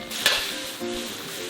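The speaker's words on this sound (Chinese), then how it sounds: "再放入肥肠还有那些蔬菜啊，给它炒到断生" Pork intestines and vegetables hit the hot oil of a wok with chili bean paste, dried chilies and Sichuan peppercorns: a steady close sizzle with a brief sharper burst early on and a stirring scrape, no voices.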